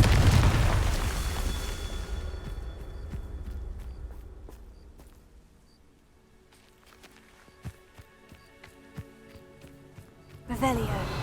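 A Confringo explosion spell fires in a Harry Potter video game: a loud booming burst that rumbles away, scattered footsteps and impacts, then another sharp blast near the end.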